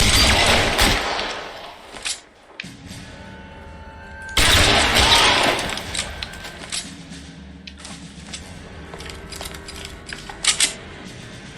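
Rapid bursts of gunfire from a shootout in the video game L.A. Noire crackle in dense volleys, with sharp clicks and metallic clatter between, loud and close, then quieter scattered shots.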